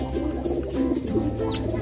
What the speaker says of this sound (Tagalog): Ayan mga kalapatids, yung mga ibon natin dito,